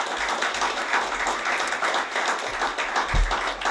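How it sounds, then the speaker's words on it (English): Audience applauding panelists at the close of a panel session at the 2022 Green Growth Summit, a steady wash of clapping from a seated crowd that holds throughout at moderate level, with no talk over it. "How about a round of applause?"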